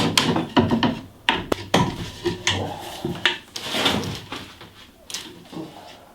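Plywood panel being pried and ripped off a staircase stringer in a house hall, a series of sharp cracks, creaks and wooden knocks close by, irregular bursts with short pauses between.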